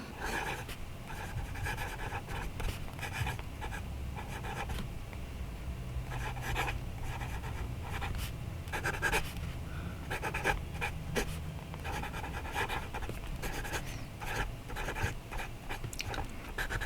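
A Wingsung 699 fountain pen writes on paper with a steady, close scratching and gentle nib feedback, broken by short pauses between strokes, with no voices.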